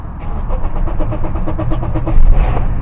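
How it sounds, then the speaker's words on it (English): A 2016 Honda Accord with a fuel pump fault cranks for a long stretch, a steady rhythmic starter churn with repeated pulses, close and loud, before the engine finally catches near the end. "it takes long cranking before it starts"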